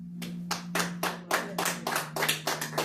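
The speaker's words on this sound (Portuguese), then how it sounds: "Louva o Senhor com as palmas." A church congregation claps hands in praise, a few distinct, sharp claps in a loose rhythm that quickly gather into quicker, overlapping clapping, heard close over a low steady hum.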